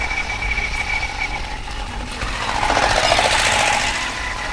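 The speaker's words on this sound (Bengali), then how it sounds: "পিছনে বড় পাইপ জুড়ে দেওয়ার কারণে এই রকম ঘটবাট ঘটবাট ঘটবাট করে শব্দ হয়" A nearby motorcycle engine with a big aftermarket exhaust pipe rumbles and drones steadily in a putt-putt rhythm, swelling louder midway as it revs, with no speech.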